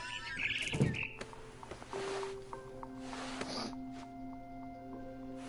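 A few short, high barn swallow chirps from a video game come early, then another near the end, over a steady tonal hum with layered electronic-sounding background tones.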